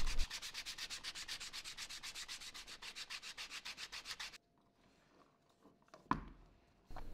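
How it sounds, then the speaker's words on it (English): Leather strap edges wrapped around a bone folder are sanded with a steady run of quick, even rasping strokes, close and alone for about four seconds, followed by quiet handling and a brief scrape. "And then sand along both edges of each part."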